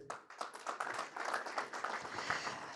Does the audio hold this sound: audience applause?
yes